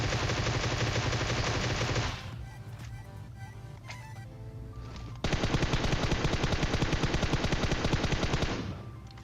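Rapid automatic gunfire rattles in long sustained bursts in the video game PUBG Mobile, loud and dense, stopping for a few seconds of quieter shots before another long burst resumes.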